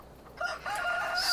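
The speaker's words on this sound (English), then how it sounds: "Now these chickens" Chickens cluck and a rooster crows in Farming Simulator 22, the calls rising over quiet farmyard ambience within a short burst.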